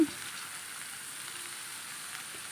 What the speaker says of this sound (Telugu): ఈ విధంగా మంచిగా కలుపుతూ ఫ్రై చేయాలి.